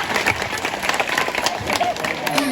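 Applause from a school audience of pupils meeting a promoter, a dense patter of many hands clapping with crowd noise, moderately loud and continuous through the short stretch.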